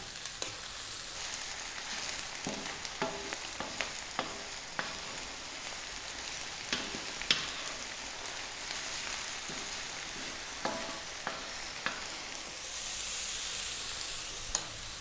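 Mushroom fried rice with oyster, shiitake and shimeji mushrooms sizzles steadily on high heat, a soft constant hiss broken by scattered clicks and scrapes as it is kept moving in the pan.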